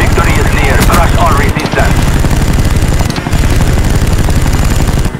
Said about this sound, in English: MW2 Black Ops 1 chopper gun.